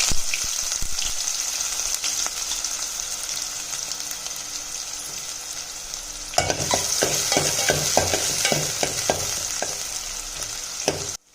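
Chopped large onions hit hot oil with a sudden loud sizzle halfway through, joining steady frying and stirring scrapes that continue to the end, while cooking fish curry.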